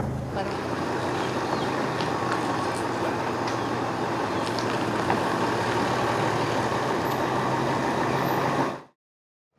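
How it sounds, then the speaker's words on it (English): A truck rumbles along a rough jungle track in Ecuador's Cuyabeno Reserve in the Amazon, a steady loud engine drone with wind buffeting the microphone throughout before cutting off abruptly near the end. "Let's see how the truck gets through there."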